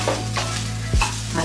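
Herbed rice with chopped green coriander being stirred in a pan on the stove, with a few brief scrapes and soft shuffling over a low steady hum and no speech.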